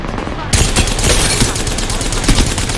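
Rapid automatic gunfire in the Apex Legends game rattles loud and close in a dense burst after a brief opening moment, with some talk mixed in.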